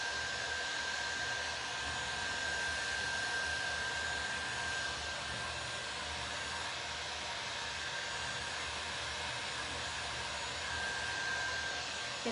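A hair dryer blows steadily on a freshly painted craft piece, a constant close whooshing hiss that holds at an even level throughout with no talk over it.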